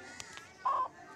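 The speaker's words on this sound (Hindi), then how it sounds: "चलो मुर्गी को मारता हूँ इससे" A chicken in a survival video game squawks once as it is struck, a short loud burst after two faint clicks, with no talk over it.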